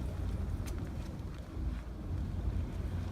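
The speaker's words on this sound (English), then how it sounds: "Now the wind gusts are extremely strong now" Strong wind gusts during Hurricane Irma in downtown Miami roar continuously and buffet the microphone, giving a close, loud, rumbling rush with slight surges.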